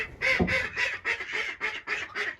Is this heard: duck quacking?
yes